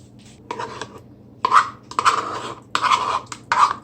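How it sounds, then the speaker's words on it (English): Butter and sugar stirred together in a bowl for chocolate chip cookie dough, with a series of close scraping, rasping strokes of a utensil against the bowl, coming in uneven bursts with short pauses between them. "So in a bowl, we combine the butter and the sugar."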